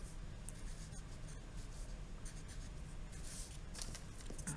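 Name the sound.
writing numbers with a pen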